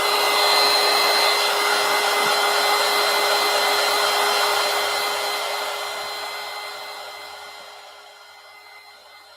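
A hair dryer blows steadily and loudly on mixed media collage disks, a constant whirring roar with a high whine that slowly fades near the end as it is switched off.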